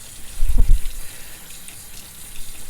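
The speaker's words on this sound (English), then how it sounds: "we'll go ahead and rinse this out under the sink" Cold tap water runs into a sink while an oral appliance is rinsed under it, a steady hiss of flow with a brief splashing gurgle early on, close and moderately loud, with no talk.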